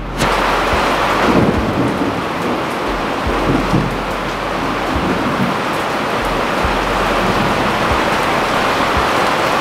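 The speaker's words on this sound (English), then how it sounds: "right now we're getting a bit of a downpour, which is most welcome, and there's some thunder." A summer thunderstorm in Sydney: a heavy, steady downpour roars loud and close throughout, with deep rolls of thunder rumbling beneath the rain.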